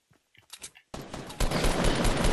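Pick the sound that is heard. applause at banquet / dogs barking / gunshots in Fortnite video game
gunshots in Fortnite video game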